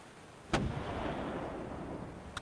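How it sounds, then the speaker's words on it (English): Cannon and gunfire sound effect from a sea battle: a sharp, loud blast followed by a sustained rumbling roar, with another crack at the very end. "And you hear the sounds of guns as well,"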